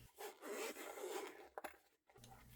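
The zipper on a hard or semi-hard multimeter carrying case is drawn open, producing a quiet, close raspy zip that runs steadily before a few brief clicks and a short pause, with no speech.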